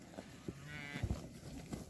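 Cattle low and moo on a farm where cows are being fed silage, several calls rising over a steady rumble of background noise in short overlapping bursts.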